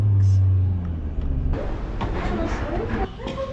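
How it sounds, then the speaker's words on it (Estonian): Cars roll onto a ferry to Hiiumaa island, a low engine rumble and clunking over the ramp continuing steadily with people talking nearby. "Laetakse peale viimaseid autosid."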